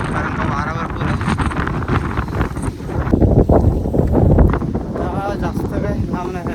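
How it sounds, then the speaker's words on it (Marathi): Strong wind gusts across a hilltop near Tikleshwar temple, buffeting the microphone with a loud, continuous roar that swells and eases without a break. "वारा बघितलात ना काय वारा"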